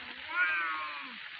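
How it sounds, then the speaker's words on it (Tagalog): A cat gives a single drawn-out meow, fairly close and moderately loud, on its own with no talking. "Yan ang mga matapang na mga ano guys, pusa dito sa amin."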